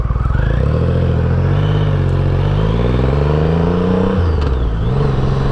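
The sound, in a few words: Triumph Rocket III motorcycle exhaust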